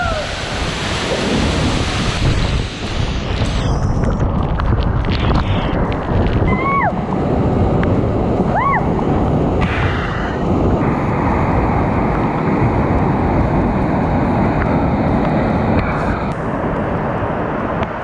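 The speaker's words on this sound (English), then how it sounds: "The sheer force from the falls itself is so strong" A powerful waterfall in Lombok, Indonesia roars loudly and continuously with a dense, unbroken rush. A few faint bird chirps rise briefly above it partway through.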